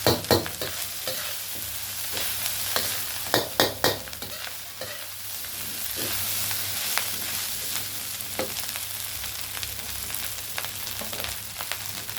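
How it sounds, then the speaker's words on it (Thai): Fried rice with naem, Thai fermented pork, being stir-fried in a pan: steady close sizzling with repeated scraping stirs, a few sharp clatters of the spatula early on, and no talking. "ก็เลยผัดให้นานสักหน่อย"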